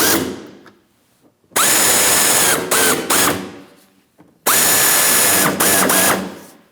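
Fasteners on a 2007-2014 Ford Edge front bumper cover are driven tight with a ratcheting power tool: two loud, close, sustained whirring bursts, each with brief stutters, and a quiet pause between them with no talk.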